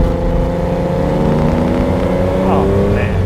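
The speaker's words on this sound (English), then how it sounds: "you constantly want to downshift to make sure you hear the revs of the engine" A 1973 Ferrari Daytona engine droning steadily from inside the car, loud and close, with a brief rise in revs near the end as it downshifts.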